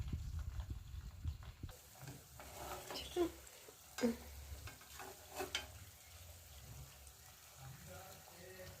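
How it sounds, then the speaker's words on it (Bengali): Suji cheese balls frying slowly in oil over low heat, a soft continuous sizzle with occasional stirring scrapes and small knocks, quiet and close, without talking. "একদম কম আঁচে ভাজতে হবে, বাড়ানো যাবে না।"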